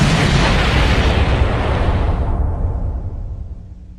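A cartoon explosion effect bursts at full loudness from the start, a broad roaring blast that slowly decays over about four seconds with no talking.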